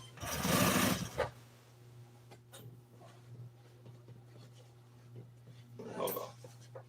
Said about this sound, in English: I'm going to sew back around that anyway.